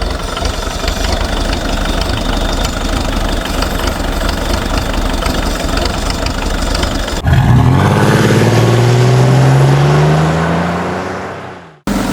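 Engine idling outdoors in the snow, a loud, steady close-up chugging that shifts to a lower, changing drone partway through, then winds down and fades out near the end.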